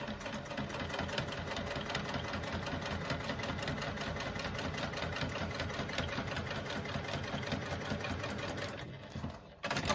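A sewing machine runs steadily while topstitching down an accent panel seam joining two pieces of fabric, a continuous close mechanical whir with no pauses until a brief dip near the end.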